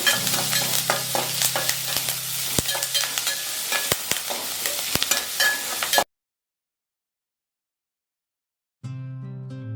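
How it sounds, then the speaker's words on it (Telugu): Chopped onions and curry leaves frying in a pan: a continuous sizzle with scraping stirs, cut off abruptly by silence, then a brief resumption. "ఇప్పుడు అందులోకి కట్ చేసిన ఆనియన్స్ని వేసుకుందాం అలాగే ఇప్పుడు కరివేపాకు వేసుకొని వేసుకోండి"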